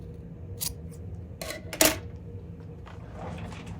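Scissors snip through machine-knitted fabric, giving a few short, crisp cuts close by against a quiet room hum, with no talking.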